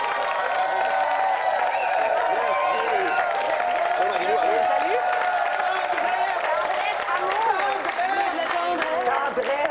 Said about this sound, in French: qu'on applaudisse avec toute la tendresse qu'on a nos deux participants de la soirée